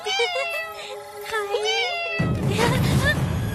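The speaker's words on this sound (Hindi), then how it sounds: "दूसरी बिल्ली।" A cat meows several times in a dubbed Hindi film scene, the drawn-out cries clear and close before a burst of rushing background noise takes over.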